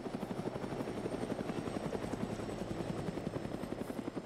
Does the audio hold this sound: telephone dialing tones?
no